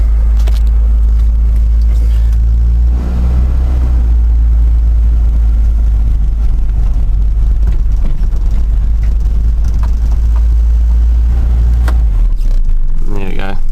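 A 1985 Mazda B2000 ute's engine rumbles loudly and steadily close by while reversing just after a cold start, with a brief change in tone near the end.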